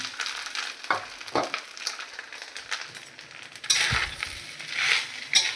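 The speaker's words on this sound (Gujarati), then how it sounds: "હવે આ ખમણને આપણે ગેસ ચાલુ કરીને ઘીમાં શેકવાનું છે." Grated fresh coconut roasting in hot ghee in a pan for coconut halwa gives a soft, close sizzle broken by stirring scrapes and light clinks of a spoon on the pan, with no talk.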